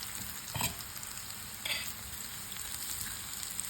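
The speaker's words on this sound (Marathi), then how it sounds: "थोडंच मंद गॅसवरती एक मिनिटासाठी ठेवूयात. मस्तपैकी शॅलो फ्राय होतील" Spinach vadi shallow-fries in a little oil over a low flame, giving a faint, steady sizzle broken by two brief stirring scrapes, with no voices.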